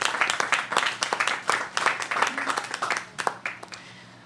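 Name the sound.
applause at ribbon cutting ceremony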